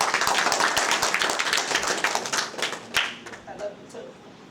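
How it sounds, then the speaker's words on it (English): Audience breaking into applause after being invited to give a good clap: dense, close clapping that is loud at first and then thins into scattered claps, with a voice talking near the end. "Give them a good clap."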